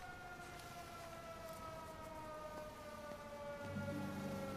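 Siren in the video game Everybody's Gone To The Rapture, a faint, distant steady wail with sustained tones that slowly drift, heard alone over a low background.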